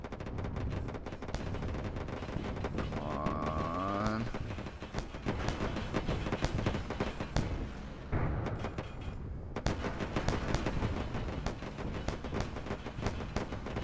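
Missile launches and weapon fire aboard a ship in the space combat game Wayward Terran Frontier: a dense, continuous barrage of rapid sharp bursts and booms for over ten seconds, with a rising electronic tone briefly cutting through and someone talking underneath.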